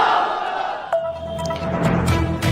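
Large crowd at a political rally roaring a chant in answer to a Nara-e-Takbeer call, a loud, sustained mass of voices with swelling shouts near the end.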